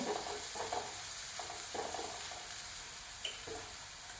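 Green chilies and onion heating in a pan give a soft steady sizzle, with a few stirring scrapes rising over the frying hiss.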